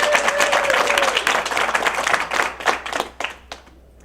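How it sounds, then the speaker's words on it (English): Audience applause at a fashion show, a burst of dense clapping from a crowd that thins out and fades to a few scattered claps within a few seconds. "Extra applause for Marie."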